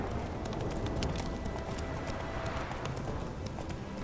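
A horse gallops in The Witcher 3, its hooves beating in a quick, continuous clip-clop rhythm at moderate volume over a soft outdoor game ambience for about four seconds.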